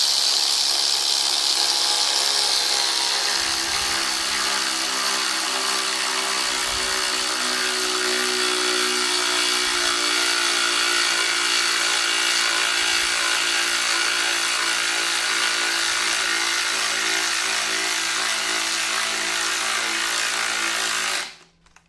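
A Hypertough cordless ratchet runs continuously for about twenty seconds, a loud, steady whirring drone close to the mic, then cuts off abruptly at the end.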